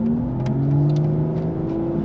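An Aston Martin V12 Vantage S with a 7-speed manual gearbox rises and falls in engine pitch as gears change, a steady loud mechanical drone with shifting tones throughout, with no talking.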